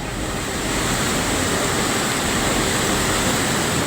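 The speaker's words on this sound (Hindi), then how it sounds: "मलबे की इस दहाड़ से पूरा पूंजार कांप रहा है। लोग इस मटमैली धार की आवाज से सिहर रहे हैं।" A roaring torrent of muddy water and debris tearing through a hillside, a dense, continuous, loud rush with no voices.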